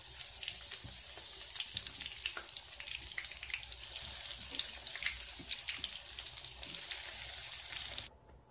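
Eggplant fries in hot oil with a loud, continuous crackling sizzle full of tiny pops that runs unbroken before cutting off suddenly near the end, with no talking.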